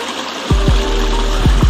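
Mineral spring water with a sulphur smell flowing out of a hillside near Namal Lake in Mianwali, Pakistan, giving a steady close gush and rush with low rumbling under a constant wash.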